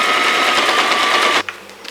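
A sewing machine runs a straight stitch across the folded opening of a Christmas puff quilt, a fast, close, rhythmic whirring rattle that stops abruptly near the end, followed by a couple of faint clicks.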